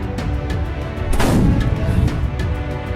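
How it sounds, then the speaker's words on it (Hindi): Cannon fire from Maratha-era fort bastions at Purandar: a heavy booming blast swells up and rolls out with rumbling decay over a steady background of smaller distant reports, alone with no voices. "सफेद बुरुज से काले बुरुज पर तोपों का मारा होने लगा।"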